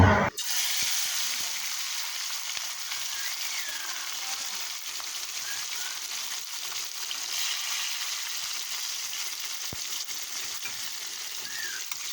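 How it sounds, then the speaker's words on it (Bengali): Small puti fish dropped into hot oil in a wok, a sharp burst at the start settling into a steady, close, even sizzle that carries on unbroken with no talk. "কড়াইয়ে তেল গরম হয়ে গেছে এবার পুঁটি মাছগুলো দিয়ে দেব"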